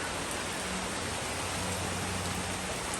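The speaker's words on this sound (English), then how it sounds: "Well, it's raining again." Steady rain falling outdoors during a storm, a dense even hiss of drops on surfaces that runs continuously and fairly loud, with no voices.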